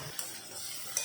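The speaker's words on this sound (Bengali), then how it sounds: "এখন যত সময় রসুনের কাঁচা গন্ধ না যায় তত সময় ভেজে নেব।" Onion, crushed garlic and green chili fry in a pan with a steady close sizzle, and two brief clicks of a spoon stirring break in along with it.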